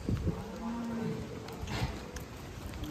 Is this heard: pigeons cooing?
no